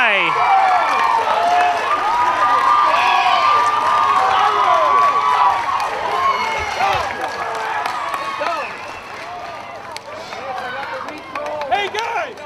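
Crowd at a semi-final baseball game between the Hornell Dodgers and Mansfield Destroyers cheering, shouting and clapping loudly, with excited voices and whistles mixed in close by.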